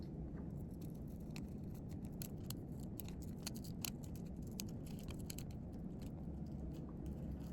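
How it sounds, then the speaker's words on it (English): Repeated crisp snips of small, dulling scissors cutting a heart shape out of a paper card, a steady run of small clicks and crunches close by, with no talking. "Take my little scissors"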